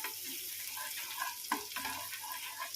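Garlic frying in butter in a pan for butter garlic chicken, a steady close sizzle with faint stirring clicks and a few sharper pops, no voices.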